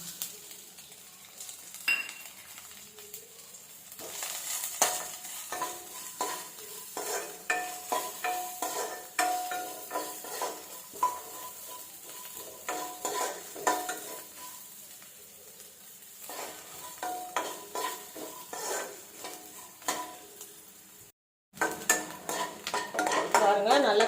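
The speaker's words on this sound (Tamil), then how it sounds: "நெய் உருகினதும் பாருங்கள் தேங்காய் பல்லு பல்லாக கட் பண்ணி வச்சுருக்குறேன் இதை இது கூட சேர்த்துக்கலாம்" Coconut pieces frying in melted ghee, a continuous sizzle broken by repeated clinks and scrapes of a metal spoon against the pan, close up, with a brief silent gap near the end.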